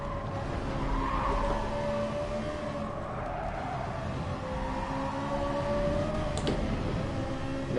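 Ferrari 458 GT3 race car in a video game on the Dragon Trail Gardens circuit, engine droning steadily while its tires squeal and skid through corners, a continuous loud whine without talk.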